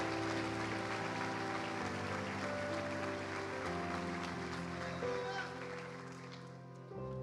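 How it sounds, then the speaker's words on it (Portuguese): A church congregation applauds during a worship service, with dense, sustained clapping layered over held musical tones before it thins out and stops near the end. "Aplauda o Senhor em nome de Jesus,"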